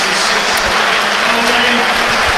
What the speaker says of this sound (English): Bamford off. He's getting a round of applause.